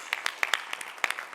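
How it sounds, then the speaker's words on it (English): A small workshop group claps in a sparse, uneven patter of distinct hand claps close by, lasting just over a second. "Can we like clap for him?"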